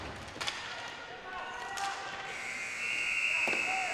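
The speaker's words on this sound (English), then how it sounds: "Buzzer goes in the first period" At a 2018 U20 World Junior Ball Hockey Championship semifinal between Czechia and the USA, a steady electronic buzzer sounds to end the first period. It rings over arena noise and a few thuds of play.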